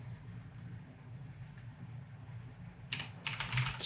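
Short burst of fast computer keyboard typing during a Blender modeling session, starting near the end after a stretch of quiet room hum, close and fairly crisp with rapid irregular key clicks.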